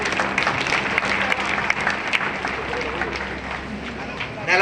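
A crowd at a stage performance claps energetically for the actors playing Mandodari and Ravana, a loud, sustained, close round of applause with a voice cutting in briefly near the end.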